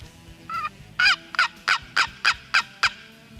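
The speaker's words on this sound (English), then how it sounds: "We got birds to our left, our right, and in front of us." Wild turkey toms gobble nearby in the field, a rapid string of about eight loud, rattling gobbles in quick succession, some overlapping from different birds.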